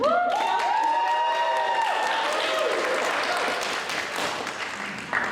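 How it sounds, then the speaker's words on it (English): Steady applause from a large audience, dense and sustained, slowly thinning toward the end, with a few voices rising briefly at the start. "We have many more opportunities to clap for Evan"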